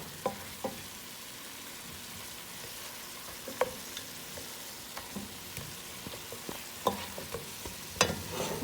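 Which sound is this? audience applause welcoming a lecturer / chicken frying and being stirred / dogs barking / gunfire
chicken frying and being stirred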